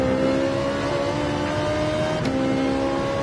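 A race car engine in Gran Turismo 7, racing on the Daytona road course, holds a steady high-pitched drone at full throttle, loud and continuous with no talk.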